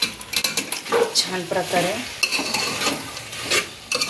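Potatoes being stirred in a hot frying pan, a spatula scraping through the sizzling dish in steady repeated strokes, with a brief word of speech near the start.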